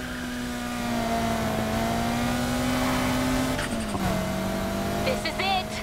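A racing car in Need For Speed: Heat holds a loud, steady engine drone that climbs gradually, then drops sharply at a gear shift and revs again, with brief squealing and clatter near the end.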